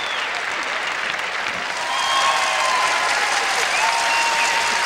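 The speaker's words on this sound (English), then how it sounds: "You saw the applause being led by Tanya Shevchenko" Olympic figure skating crowd at the 1998 Nagano Winter Games bursts into sustained applause during the pairs' short program, a dense steady roar of clapping that swells louder after the first couple of seconds, with faint whistles riding above.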